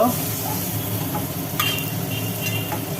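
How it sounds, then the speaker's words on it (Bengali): Slices of pointed gourd fry in hot oil in a home kitchen, a constant close sizzle and crackle with occasional scraping stirs against the pan. "তেলে মোটামুটি ভাজি করে নেওয়া হলো ভেজে আস্তে আস্তে তুলে নেওয়া হচ্ছে পটলগুলোকে"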